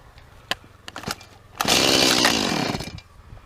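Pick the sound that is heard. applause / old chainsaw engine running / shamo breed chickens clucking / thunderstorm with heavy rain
old chainsaw engine running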